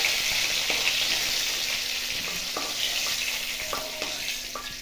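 Cauliflower frying in oil makes a loud, steady hiss and sizzle close by, with occasional light clinks of a utensil stirring at intervals and no talking.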